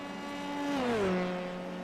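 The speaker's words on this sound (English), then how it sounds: "Hello, loud replay noise." Replayed engine of a Formula 3 car in a sim racing game at Watkins Glen, a loud steady whine that sweeps downward in pitch as the car passes, alone with no talking.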